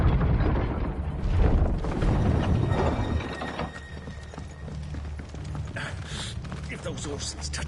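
Horses' hooves clop along with clattering, ratcheting mechanical noise in the game Final Fantasy XVI, loudest at first and easing later, while people speak over it.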